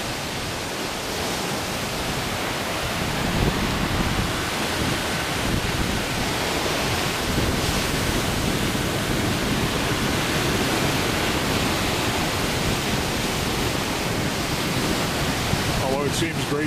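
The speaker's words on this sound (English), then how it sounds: "Hope you can hear me over the crashing of the waves." Waves crashing along the Lake Michigan shoreline at Rogers Park in Chicago, a loud, continuous roaring wash of surf that fills the whole stretch, with no clear voice over it.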